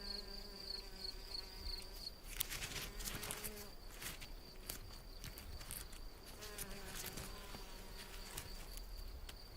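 A two-coloured mason bee (Osmia bicolor) buzzes close by in a thin, wavering drone while preparing its nest, with soft rustling and scraping sounds scattered through the quiet scene.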